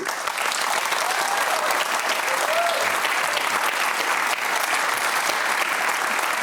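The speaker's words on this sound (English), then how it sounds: "that applause tells us something" Studio audience at a televised Q+A panel program bursting into sustained applause after a question on climate change and cost of living, dense even clapping from many people lasting several seconds, loud and unbroken.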